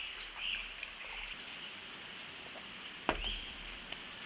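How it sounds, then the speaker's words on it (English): Light drizzle falls outside, a soft, steady patter of raindrops on surfaces with an occasional louder drip close by. No voices are heard. "As you can probably hear, it is drizzling right now"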